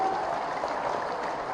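Short burst of crowd applause at a political rally in Bihar, a dense clapping roar from a large audience, loud and sustained through the moment with no speech over it.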